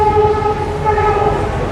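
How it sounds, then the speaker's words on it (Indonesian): A train passes close by, its horn held as a steady two-tone blast over a loud rolling rumble of rail cars, with no voices. "Kereta."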